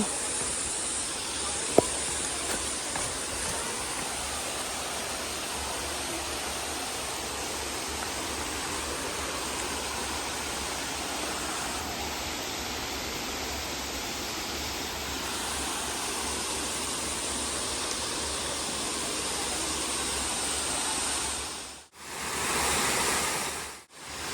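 The bottom falls of Ng Tung Chai waterfall roar as a steady, broad rush of falling water, continuous and fairly close, with a brief handling knock near the end.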